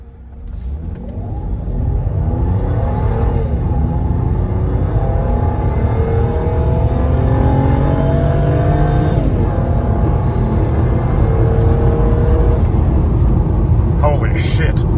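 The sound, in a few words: Mercedes W124 car accelerating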